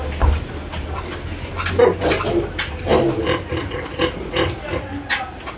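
A sow giving birth grunts with her newborn piglets on a farm, soft, irregular snorts and grunts close by over a low background hum, with faint clatter and no talk.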